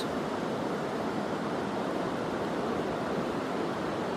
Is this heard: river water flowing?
yes